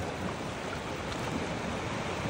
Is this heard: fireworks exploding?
no